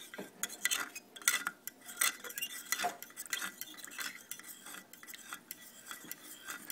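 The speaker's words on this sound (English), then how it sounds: "So I stir this up until it feels like everything's off the bottom." Gravy for beer-butt chicken stirred in a pan to scrape the bottom clean, a run of close, irregular metal scrapes and clinks of a utensil against the pan, fairly quiet, with no talking.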